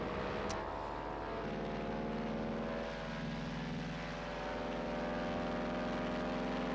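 Propeller warplane engine in the World of Warplanes game, a steady loud drone with layered harmonic hum running continuously and unbroken, no voices over it.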